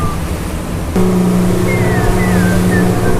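A small boat rides rolling open-ocean waves, its motor humming steadily and loud under constant wind and water rush, with no voices.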